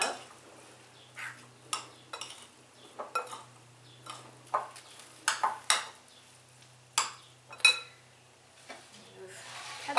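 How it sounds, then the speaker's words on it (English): Stuffed pepper filling of rice or quinoa with leftover BBQ chicken being stirred, a run of scattered spoon scrapes and clinks against a bowl with short bursts spread out over a quiet background. "Stir that up."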